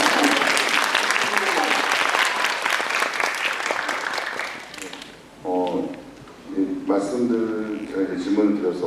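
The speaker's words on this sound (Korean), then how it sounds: "박수를 치실 거면" Audience applause at a Korean film screening Q&A with an actress and a director, a dense burst of clapping for about five seconds that gives way to a speaking voice.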